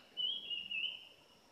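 A golden flycatcher caught in a sticky lime trap gives a thin, high, drawn-out whistling call, faint and steady against quiet outdoor background.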